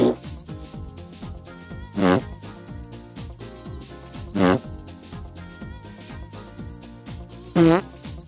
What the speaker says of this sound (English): This fart is called the runner, and it's a really fun fart.